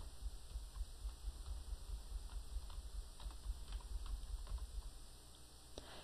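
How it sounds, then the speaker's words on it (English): Letters typed on a computer keyboard into Notepad: a quiet, steady run of light key taps over a soft background hiss, with no voices. "I'm going to start typing some different letters."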